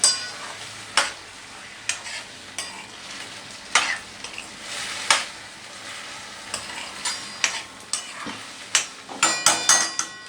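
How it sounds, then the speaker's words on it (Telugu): Gongura chana dal curry stirred in a pan with salt, with scraping spoon strokes and clinks of utensil against metal over a steady sizzle, close and irregular throughout. "ఇప్పుడు కలబెడుతున్నాను. ఇలా కలబెట్టుకోండి అంతా."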